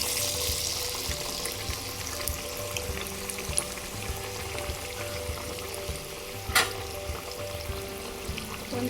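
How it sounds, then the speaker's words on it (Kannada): Thick masala vada fritters of chana dal dropped into hot oil, a close steady bubbling sizzle with a brief sharp splash partway through and no talking. "ಇದನ್ನೀಗ ಎಣ್ಣೆಗೆ ಬಿಡ್ತೇನೆ."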